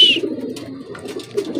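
Pigeon cooing from racing pigeons during a pooling release in Lucena, Quezon: soft, low, continuous throaty coos close by, with faint bird sounds above and no speech.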